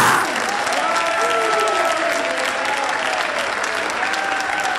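Church congregation applauding and cheering for Jesus, a dense, loud, sustained wash of clapping with voices rising through it for the whole stretch.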